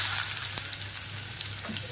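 Bitter gourd (kakrol) frying in a pan, a steady close sizzle with crackling oil filling the whole stretch, with a low hum running under it.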